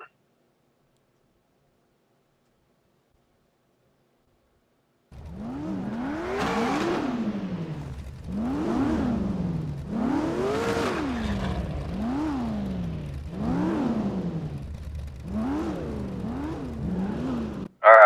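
Race cars in a racing video game accelerate from the start, engines rising and falling in repeated revving sweeps through gear changes, loud and steady, with no talking.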